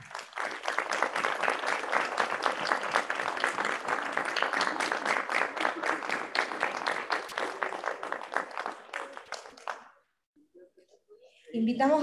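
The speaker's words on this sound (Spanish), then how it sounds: "sellamos este hermoso y emotivo momento con un caluroso aplauso." Loud, sustained applause from a crowd at a school graduation ceremony, dense clapping that carries on for about ten seconds before fading out abruptly.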